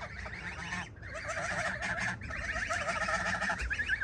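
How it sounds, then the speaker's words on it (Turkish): Several chickens cluck and squawk continuously close by as they enter their village coop, their calls overlapping in restless bursts. "Tavuklar komise giriyor."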